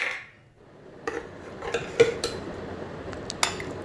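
Metal pots and a ladle clink and scrape in a few sharp, close knocks while serving lamb leg soup, with quiet pauses between them and no talking.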